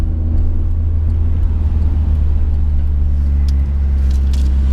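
A 2015 Subaru WRX engine drones steadily from inside the cabin during normal driving, a loud low rumble and whir that holds constant, with a few faint crackles of afterfire near the end.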